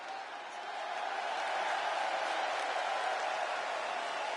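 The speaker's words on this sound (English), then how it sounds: "No surprise, the superstar is bringing the crowd to their feet." Crowd cheering in a wrestling video game's women's division career mode, a steady broad roar of arena noise that swells in the first second and holds loud and sustained throughout.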